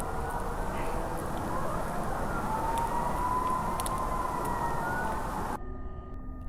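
A siren wails steadily at night in the woods, its rising and falling tone loud and continuous over a dense background rumble, then cutting off abruptly near the end.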